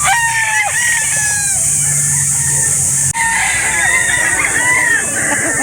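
Several roosters crow repeatedly over a dense, continuous din of clucking chickens at a busy poultry market in Calauan, Laguna, with faint voices mixed into the steady noise.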